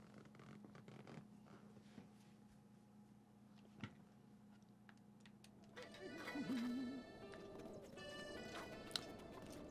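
Horse hooves clip-clop at a stable in The Legend of Zelda: Breath of the Wild, soft scattered steps under steady game music, with a person talking over them.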